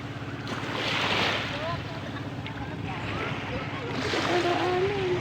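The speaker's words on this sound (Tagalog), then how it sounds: "Lakas na ng alon." Strong ocean waves break on a provincial shore, with surges of surf near the start and end over steady wind rumble, while voices talk nearby.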